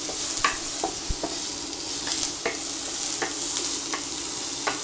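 Garlic and onions sautéing in vegetable oil in a pan, with a continuous soft sizzle broken by scattered stirring scrapes and clicks at irregular intervals, close and fairly loud, with no voices.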